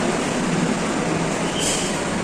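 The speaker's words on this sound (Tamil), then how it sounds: "நம்ம இடக்கூடிய ஸ்டாப்புக்கு வந்துட்டோம் இதுதான் மெட்ரோ" Steady, dense rumble and hiss of a metro train in motion in Ernakulam, Kerala, continuous and fairly loud with no talking.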